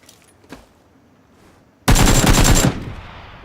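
Loud burst of rapid gunfire from a video game, about a second long, after a faint earlier shot, then fading to a quieter tail.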